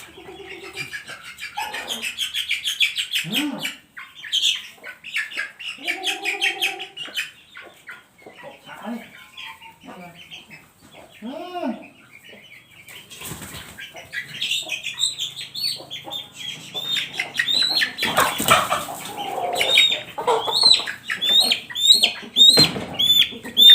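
Red junglefowl chicks peep in quick, high runs alongside the clucks and calls of adult chickens, growing busier and denser in the second half, with no talk.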